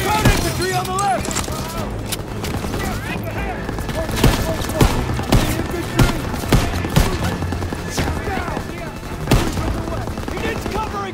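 Bursts of machine gun fire rattle through a Call of Duty WWII battle on Hill 493, with repeated sharp shots and heavy combat noise running throughout, while soldiers shout orders over the gunfire.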